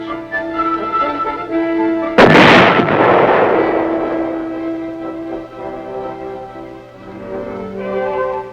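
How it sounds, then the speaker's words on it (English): A big gun on a vehicle fires a projectile during weapons testing at Aberdeen: one sudden loud blast that rolls off into a long fading rumble, over a steady droning hum. "record the motion of the gun barrel with respect to the entire vehicle as the projectile leaves the muzzle and the weapon recoils"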